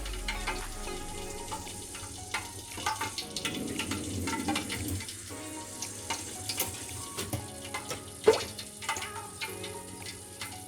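A small ball of semolina dough dropped into hot oil for gulab jamun, giving a faint, steady frying sizzle with scattered small crackles and a brief louder pop near the end.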